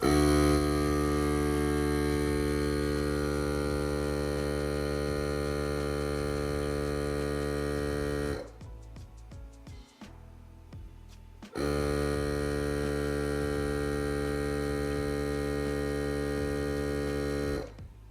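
Fanttik X9 Ultra portable pump inflating a 20 by 4 inch e-moped tire, a loud, steady, close motor drone running for about eight seconds, a short pause with small clicks, then the same drone resuming until the end.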